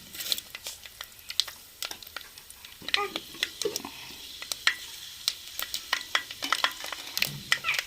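Fenugreek seeds sizzle and pop in hot oil at the start of a fish curry, with sharp crackles scattered throughout and some stirring in between, close and moderately loud.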